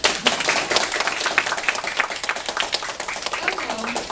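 Audience applause after a speech at a Toastmasters club meeting, a dense, steady wash of clapping running through the whole stretch, fairly loud and close, with some voices mixed in.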